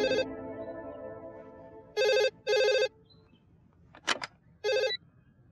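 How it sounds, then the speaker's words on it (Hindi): A telephone rings in short electronic bursts, four clear rings spaced across a quiet room, with a brief clunk between them. "ओफो प्रेरणा, कब से फोन कर रही हूँ, उठाती क्यों नहीं?"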